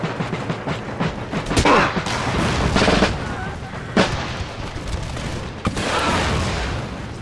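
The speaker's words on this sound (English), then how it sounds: "they're going to get destroyed with musket fire" Musket volleys and artillery on a battlefield in the video game Empire Total War, a string of booming shots and crackling gunfire repeating every second or two, with talk heard among the blasts.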